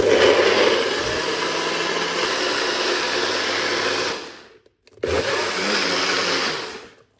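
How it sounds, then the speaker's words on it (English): A blender whirs loudly and steadily blending beetroot for juice, cuts out briefly, then starts up again and runs until it winds down near the end. "Now what we're gonna do, put this in the blender"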